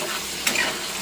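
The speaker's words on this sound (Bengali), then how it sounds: "এখন আলুটা ভাজ আগে, ভেজে তারপর লাস্টে ডাটাটা দিয়ে ভাজবি।" Potatoes fry in hot oil with a steady, close hiss and a brief stirring scrape midway, no voices over the sizzle.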